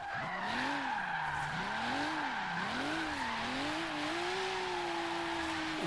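A Rocket Bunny Boss V2 Silvia S drifting in Forza Horizon 3, its engine droning loud and close while the tires squeal in long, wavering skids that rise and fall, then hold steady.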